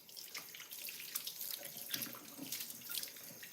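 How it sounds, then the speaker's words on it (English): A kitchen tap runs steadily into a sink while hands are washed, a faint, continuous splashing hiss with small irregular spatters throughout. "Let me wash my hands."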